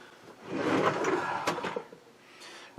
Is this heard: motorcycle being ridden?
no